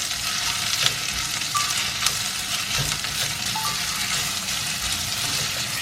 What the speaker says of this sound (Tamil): இப்போ இந்த வெங்காயத்துக்குள்ளேயே பச்சை மிளகா, ஸோ இதை வந்து ஒரு 2 மினிட்ஸ் வதக்கிடும்.